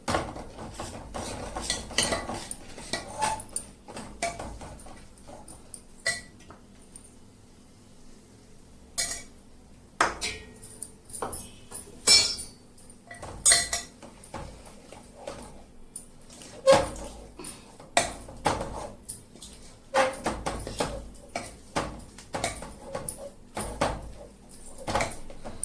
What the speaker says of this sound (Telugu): ఇప్పుడు ఇందులో మనము ఈ గోధుమ పిండిని కలుపుకొని బాగా వేసుకుంటామండి.